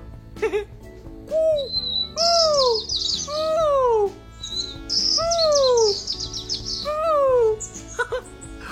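Chirpy, pink-bird-style calls come in repeated clusters of descending whistles and trilled tweets, loud and close, with brief pauses between phrases; they sound like a performer imitating the bird.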